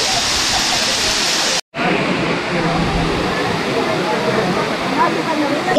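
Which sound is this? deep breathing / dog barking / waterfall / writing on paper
waterfall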